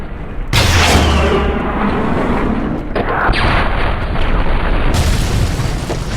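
Heavy booms and explosions with gunfire in the Wolfenstein (2009) shooter game, loud and sustained with a sharp blast near the start and another burst later.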